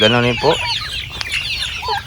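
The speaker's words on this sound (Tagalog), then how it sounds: "Yung manok natin dito sa loob," Chickens inside a backyard poultry coop in General Santos City cluck and squawk close by in quick bursts, with a brief spoken phrase near the end under the birds.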